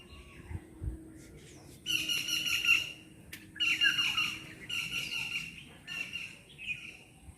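Birds flying around a drumstick tree give loud, harsh squawking calls in repeated bursts of a second or so, close by, over a quiet background with no talking.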